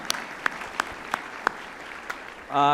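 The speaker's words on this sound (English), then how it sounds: "Yes, you can clap." A few people clap at an awards ceremony, sparse and irregular with about six distinct claps spaced out over a couple of seconds rather than full applause, followed by a brief louder noise at the very end.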